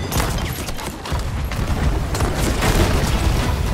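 Ship cannons firing in a naval video game battle, a continuous dense barrage of booms and blasts rumbling loudly and close throughout, with no clear gaps between shots.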